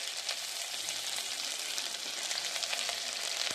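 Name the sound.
green chillies and tomato frying in a pan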